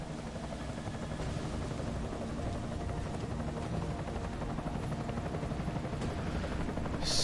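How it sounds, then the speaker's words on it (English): An enemy helicopter in the video game Deus Ex Mankind Divided gives a steady rotor drone that stays fairly constant throughout, with no talk over it. "Enemy helo sighted."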